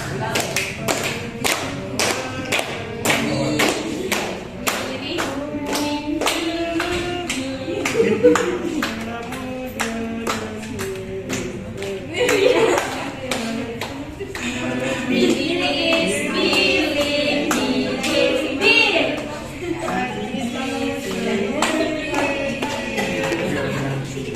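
Classmates in a primary school classroom clap their hands in a rapid, steady rhythm, mixed with thumps and children's voices singing and talking over it, loud and close.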